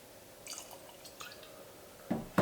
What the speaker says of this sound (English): Also put this in a clear Glencairn, courtesy of Ralph the Professor.